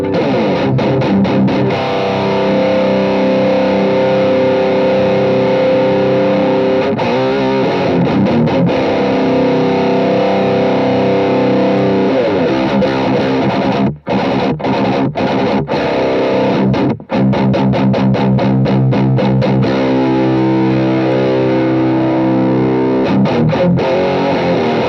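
High-gain electric guitar played through the boost channel of an AMP1 Iridium Edition amp with some low end cut, giving loud, continuous distorted chords and riffs with brief gaps, no talking.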